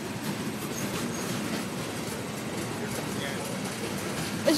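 A CSX mixed freight train rolls past steadily near Holland, Michigan, with a continuous rumble and clatter of wagons, a brief wheel squeal, and a sharp sound near the end.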